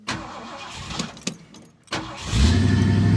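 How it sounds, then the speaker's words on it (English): A 1969 Ford Mustang Mach 1 V8 cold-starts, a few cranking clicks and pumps giving way to the engine catching and settling into a loud, rumbling idle up close. "Now this is cold start. I haven't started it this morning."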